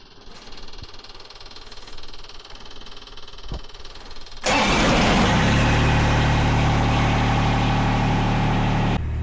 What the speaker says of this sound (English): So I'm gonna let the tractor warm up